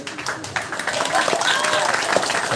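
Audience applause at a live Balinese Calonarang temple performance, a rough crowd clapping mixed with voices and background noise, moderately loud and continuous through the short stretch.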